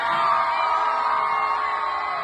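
A large concert crowd cheers, a dense sustained roar of whoops and yells from many voices, continuous and fairly distant.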